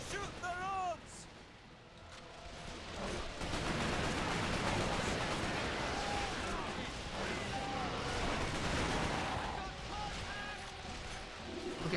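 Gunfire crackles in rapid bursts in the video game Resistance: Fall of Man, layered with explosions and chirping effects, with a voice briefly speaking at the start.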